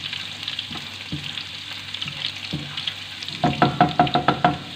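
Chopped green chillies and other ingredients fry in a pan for chicken karahi over a lowered flame, a soft sizzle broken by occasional knocks, then a quick burst of rhythmic stirring scrapes toward the end, with no talking.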